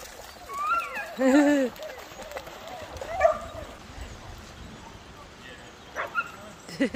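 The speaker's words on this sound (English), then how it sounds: "So many dogs here today, isn't there, Ozzy?" Dogs at a dog day out yip and whimper in short high-pitched bursts, close and fairly faint, over outdoor crowd murmur with a person talking.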